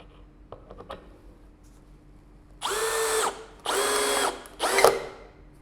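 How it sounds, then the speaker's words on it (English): After a few quiet handling clicks, a Bosch GSB 185 LI cordless impact drill with a metal bit runs in three loud, sustained whirring bursts while boring through a sheet of metal. "So, now I have a metal drill bit and there is a sheet metal here. So, let us drill through the sheet metal."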